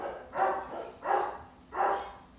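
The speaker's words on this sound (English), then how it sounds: "bark, bark, bark" A dog barks three times in a steady, evenly spaced rhythm at moderate loudness, with no talking over it.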